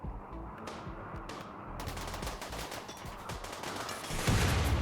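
Rapid bursts of gunfire from colonists attacking the last remaining turrets in the Rimworld video game, a dense stream of overlapping shots and machine-gun fire that stays loud throughout and swells near the end.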